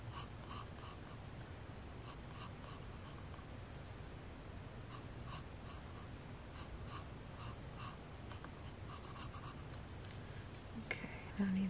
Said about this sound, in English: I'm just trying to draw something really quick